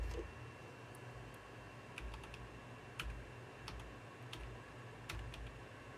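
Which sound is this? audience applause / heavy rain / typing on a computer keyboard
typing on a computer keyboard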